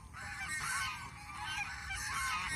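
A flock of geese on a goose farm honks continuously in overlapping, nasal calls, a busy steady chorus at moderate distance.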